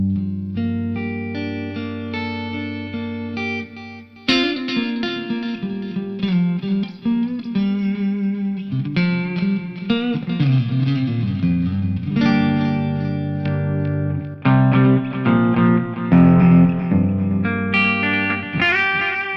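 A clean, undistorted electric guitar DI signal played through a Donner Arena 2000 multi-effects unit, ringing chords and picked notes with sustained tones after a short opening phrase, loud and up close with no speech.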